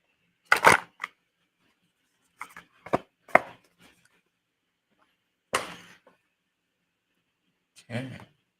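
Tarot cards shuffled by hand in several short, crisp bursts of riffling and tapping, close and clear, with quiet pauses between.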